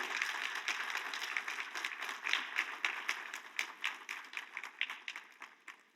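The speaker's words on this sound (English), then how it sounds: "So would you please clap your hand?" Guests at a tenth anniversary celebration and fundraiser clap their hands in a steady, moderately distant round of applause that gradually thins and fades toward the end.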